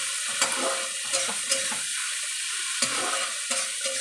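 Tangra fish curry with potatoes being sautéed in a pan gives a close hiss under repeated spatula scrapes and taps, spaced irregularly over a few seconds.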